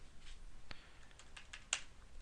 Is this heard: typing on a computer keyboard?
yes